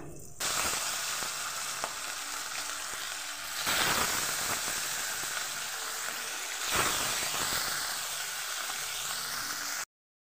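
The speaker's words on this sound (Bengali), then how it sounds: "এই তেলের মধ্যেই এবার আমি মাছগুলোকে ভেজে নেব।" Pieces of rohu fish frying in hot oil left from frying potatoes, a dense continuous sizzle with swells of crackling as pieces are turned, close and steady until it cuts off abruptly.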